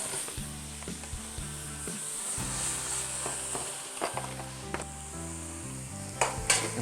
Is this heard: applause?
no